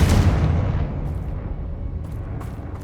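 A Confringo fire spell explodes in the Hogwarts Legacy video game. A single loud, close blast hits at once, then its deep rumble fades away over the following seconds, with faint crackles near the end.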